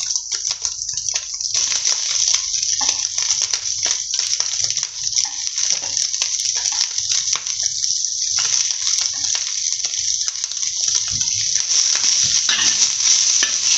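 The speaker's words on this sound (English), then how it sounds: "We're gonna add in the garlic and ginger" Garlic, ginger and onion fry alongside bacon in a hot pan, a loud continuous close sizzle holding for many seconds with uneven crackle and occasional stirring movement underneath, no speech.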